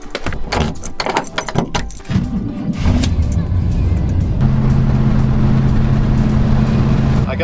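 A pickup truck drives along the road at steady speed, a continuous low engine drone and road rumble after some rustling and knocks, with a faint voice early on.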